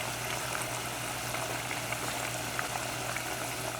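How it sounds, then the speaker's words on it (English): Tofu fries in a pan until crispy for Khmer tofu fried rice with mixed vegetables, giving a steady, faint, even hiss under a low hum, with no talking. "We're gonna cook this until it's crispy."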